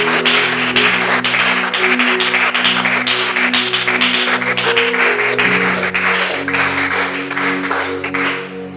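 A church congregation applauds after a sermon with sustained, dense clapping from many hands. The clapping goes on steadily for several seconds, with a low music or voice hum underneath, then eases slightly at the end.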